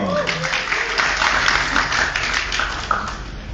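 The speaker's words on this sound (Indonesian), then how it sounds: "tepuk tangan dong" Applause from an audience at an Indonesian entertainment event, a steady wash of clapping at moderate level through the whole stretch, with faint voices mixed in beneath.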